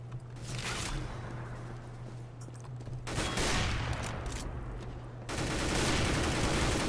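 Rapid AK rifle bursts in a CS:GO multiplayer match, heavy and continuous across the stretch with a steady low hum underneath and no talking.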